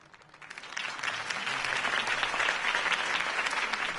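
A crowd in the game Batman: The Telltale Series bursts into applause after a campaign speech, swelling quickly and holding as a steady, dense wash of clapping for several seconds.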